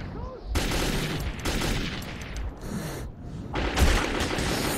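Enemy gunfire in the Metro 2033 game erupts in dense, sustained bursts that fill nearly the whole stretch, loud and close, with a brief lull before another heavy volley.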